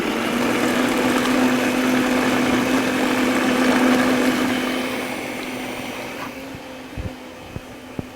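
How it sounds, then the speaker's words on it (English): A beat-up old food processor blending avocado pudding with a steady, loud motor whir. The whir winds down near the end, followed by a few faint clicks. "this poor old food processor. And just chugging along."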